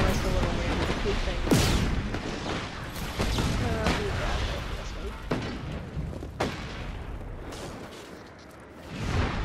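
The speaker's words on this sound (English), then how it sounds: "Explode. Explode. Yes, explosion." Explosions in the video game Just Cause 3 boom out several times over a constant rumble of game noise, with sharp blasts standing out among the din.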